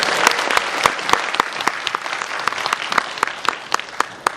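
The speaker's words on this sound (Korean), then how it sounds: "한신한테 박수 한번 주세요." A crowd at a seminar-style success camp breaks into steady, dense applause, many hands clapping together at close range throughout, with no voices over it.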